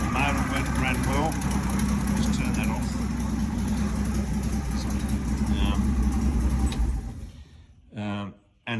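A 1966 Nissan Patrol G60 ute engine runs steadily at a close, rumbling idle under talking, then is switched off and cuts away, leaving speech over near silence.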